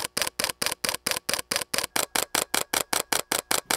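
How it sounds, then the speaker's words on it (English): Mechanical shutter of a Fujifilm X-T5 mirrorless camera firing in a fast, steady burst of about twenty crisp, loud clicks, close and isolated with no talk. "I think the shutter on the X-T5 sounds a bit different. Have a listen."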